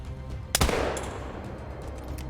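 A single sharp gunshot from a smoke stick muzzleloader in theHunter: Call of the Wild, a loud crack followed by a rolling outdoor echo, during deer hunting.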